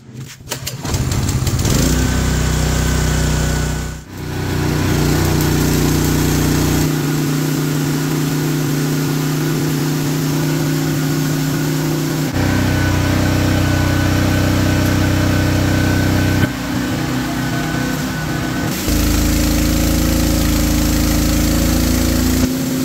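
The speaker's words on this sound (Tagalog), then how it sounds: "So itest na natin yung ating generator." A small portable generator engine runs close by, starting with a sputter, then droning steadily with shifts in load and pitch, its loud mechanical hum continuing alone for over twenty seconds.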